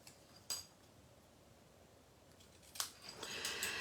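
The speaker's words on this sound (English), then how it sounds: "I'm going to just slightly cut the rounded corners on this." Scissors cutting paper for an Easter treat box, with a few faint, close snips spaced out over quiet room tone, the last cut a longer crisp slice.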